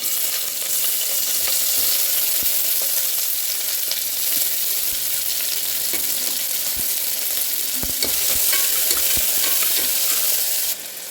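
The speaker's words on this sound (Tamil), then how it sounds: "நம்மளோட இஞ்சி பூண்டு நல்லா வதங்கிடுச்சு" Crushed ginger, garlic and onion with cumin sizzle steadily in hot oil in a home kitchen pan, a continuous close frying hiss broken by occasional stirring scrapes and clicks.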